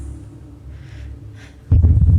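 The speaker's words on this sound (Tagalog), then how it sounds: "Ayan, heartbeat daw, sabi." A deep, throbbing heartbeat sound effect with a low rhythmic pulse, quiet at first and then swelling into loud, heavy thumps near the end.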